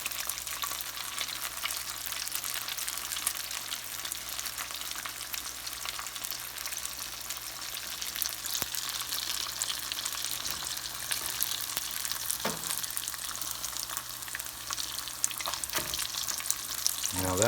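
Mac and cheese buns fry in hot grease with a steady, close sizzle and a few soft clatters as they are turned in the pan; no one speaks.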